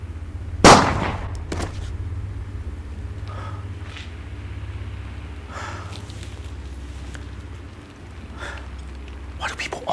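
A single loud gunshot cracks sharply near the start of a short comedy film scene, followed by low background hum and a few faint knocks and rustles.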